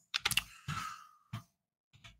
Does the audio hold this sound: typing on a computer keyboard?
yes